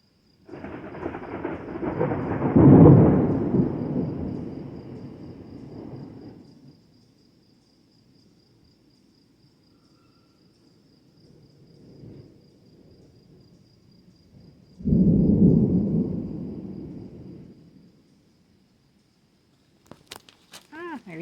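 Thunder rolls during a popup storm over a homestead, two long deep rumbles several seconds apart, loud then fading, with a fainter roll between them and quiet crickets at the end.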